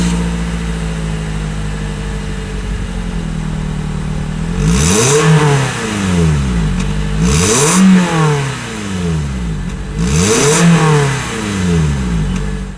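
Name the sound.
2016 Scion iM 1.8 liter engine revving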